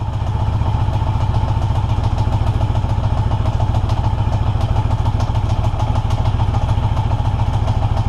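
A 1982 Yamaha XJ650 motorcycle engine runs at a steady, throbbing idle, close and loud, with a continuous rhythmic mechanical clatter and no talking.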